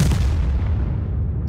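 SU-14-1 artillery gun firing in a tank video game, a single heavy boom already underway that rolls off into a long, fading low rumble, loud and alone.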